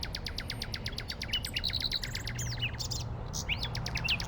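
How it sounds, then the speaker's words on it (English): Birds chirp in the 1996 video game Urban Runner, with a steady run of quick, high tweets followed by a few scattered calls over a low ambient hum. "You guys think that there are birds around?"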